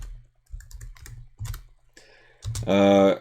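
Someone types a mkdir command on a Linux computer keyboard in quick clusters of close key clicks, and a voice briefly rises at the end.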